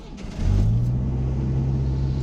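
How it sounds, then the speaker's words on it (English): A 1987 Ford Ranger pickup's engine cranks briefly, then catches into a loud, close, steady idle rumble. "let's see right here, she should start up"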